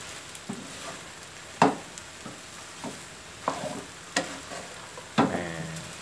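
A utensil stirs and tosses drunken spaghetti with seafood, pork, chicken, shrimp and holy basil in a hot pan, giving soft sizzling under scattered knocks and scrapes at an irregular pace, close by and without talk.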